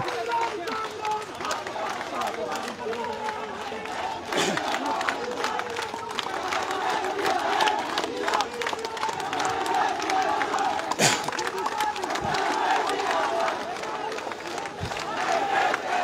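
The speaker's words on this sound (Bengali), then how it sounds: "তারা বিভিন্ন ধরনের স্লোগান দিচ্ছেন" Thousands of Jagannath University students massed before the Bangladesh Secretariat gate, a dense crowd roaring and shouting slogans continuously, with claps and sharp bursts over the steady din and a voice talking above it.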